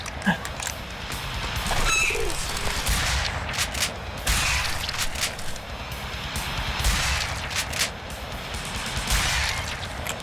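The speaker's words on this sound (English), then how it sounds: "Nice shooting, Tex." Rapid gunfire from the video game The Darkness II crackles in uneven bursts across the scene, mixed with game effects and some bird-like coos, at a steady moderate level.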